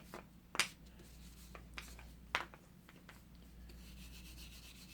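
Sandpaper and a brass brush lightly rub a North Brothers No. 2100 Yankee brace during restoration, making a few short, quiet scraping strokes against a faint background hum.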